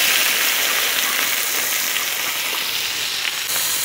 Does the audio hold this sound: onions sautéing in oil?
yes